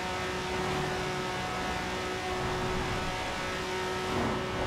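A lightly modified early-1990s Honda NSX engine in the racing game Forza Horizon 4 hums and whirs steadily at a fairly low level, with sustained tonal engine drone and no voices.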